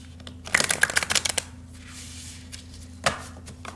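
Tarot cards being shuffled by hand, a dense burst of rapid riffling and flicking followed by a quieter pause and one last short snap of cards, close and crisp with no talking.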